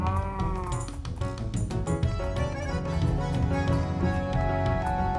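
Sheep in the Minecraft video game bleating repeatedly over steady game background music, the calls clear and fairly loud with no talk.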